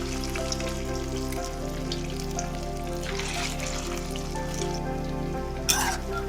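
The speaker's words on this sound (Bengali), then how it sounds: "মাছের ডিমগুলো আমি এইভাবে কড়াইতে ছোট ছোট করে বড়ার আকারে দিয়ে দেব" Small fish roe fritters fry in hot oil in a kadai, giving a steady, close crackling sizzle with a faint low hum underneath and a brief louder pop near the end.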